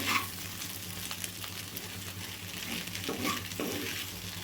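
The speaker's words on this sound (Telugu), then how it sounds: "మధ్య మధ్యలో ఇట్లా కలుపుకుంటే అయితే వేయించుకోవాలండి, లేకపోతే అడుగు మాడుతుంది" Ivy gourd (tindora) frying in a pan, a steady crackling sizzle with intermittent scraping stirs from a spatula, close and moderately loud, with no voices.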